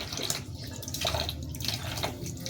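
Dishes are washed by hand at a home sink under a running tap, with steady water flow and scattered light drips and clinks, fairly faint and alone.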